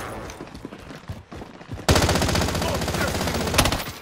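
Rapid automatic gunfire erupts loud and close in a video game, a sustained burst following quieter shots and shouting, with speech mixed in.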